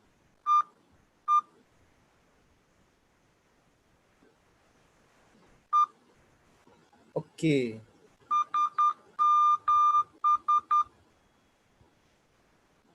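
Morse code beeps sent at 10 words per minute sound as short and long steady tone pulses in a sparse, irregular rhythm. They are clear and close, and one brief spoken word breaks in partway through.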